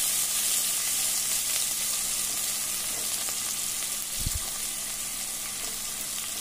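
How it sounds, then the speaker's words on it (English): Spring onions sautéing in a pan over lowered heat with fenugreek (methi), a steady soft frying sizzle throughout, with a brief low bump partway through. "I'm going to add the spring onions, saute it for a while."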